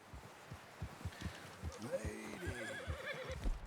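A horse in Red Dead Redemption 2 gives a close, loud whinny with rising and falling pitch, over a steady clip-clop of hooves thudding in an even rhythm.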